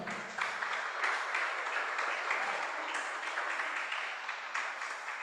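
A crowd claps steadily for several seconds, a dense, moderately loud patter with slight swells in intensity.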